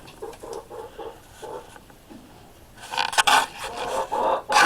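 A broody hen clucks in short repeated bursts at close range, followed by louder, more agitated squawks and rustling near the end.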